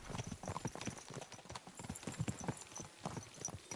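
Horse hooves clip-clop at a steady walking rhythm in the medieval game Kingdom Come: Deliverance II, a continuous run of close, moderately loud beats with no talk over them.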